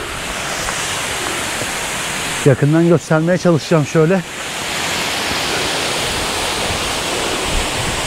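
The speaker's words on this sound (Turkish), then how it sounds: "Resmen şelale gibi dökülüyor ya. Hatta şelale yani." Water pours like a waterfall down Table Mountain from a spring near the summit. It makes a loud, steady rushing roar throughout, and someone talks briefly over it partway through.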